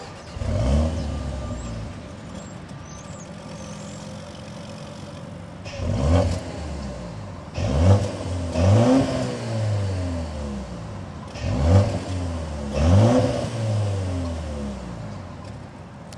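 A 2024 BMW X1 M35i engine idles with a low rumble, then revs sharply several times in bursts, the quad exhaust roaring up and settling back between revs.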